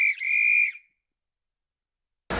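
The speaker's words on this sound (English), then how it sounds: "you have to bring the whistle" A referee-style whistle blown at halftime, one sharp shrill blast with a brief break in the middle lasting under a second, then silence before a burst of noise at the end.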